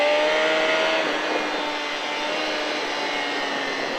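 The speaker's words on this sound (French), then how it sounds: "je couche la moto et là, j'accélère" Motorcycle at Le Vigeant circuit pulling out of a corner under acceleration, a close, steady engine drone with rising harmonic tones and wind rush, loud throughout with no talking.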